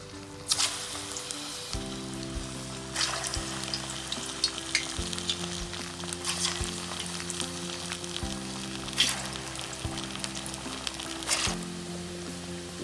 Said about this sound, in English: We're going to be frying our plantain.